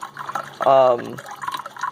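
Hot water streams from a small motel-room coffee maker into a container, a steady close-up pour with a brief rising, ringing fill tone in the middle.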